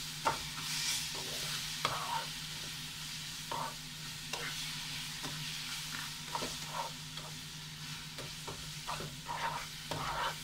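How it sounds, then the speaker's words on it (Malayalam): Vermicelli mixture with condensed milk stirred in a pan: a soft, low sizzle runs underneath repeated spoon scrapes and taps in an irregular rhythm, fairly quiet and close. "ഇനി ഇതിലേക്ക് നമുക്ക് കണ്ടൻസ്ഡ് മിൽക്ക് ചേർക്കാം. കുറച്ച് ചേർത്തിട്ടൊന്ന് മിക്സ് ചെയ്തെടുക്കുക."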